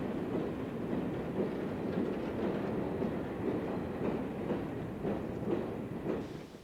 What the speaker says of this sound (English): Locomotives, perhaps not the cleanest, hustle back and forth with regular, ordinary, everyday trains